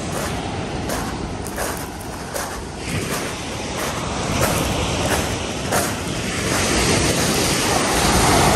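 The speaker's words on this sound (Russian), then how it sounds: "Чуть-чуть догнала волна." Ocean surf roars continuously nearby as waves break and wash in, with gusts of wind buffeting the microphone.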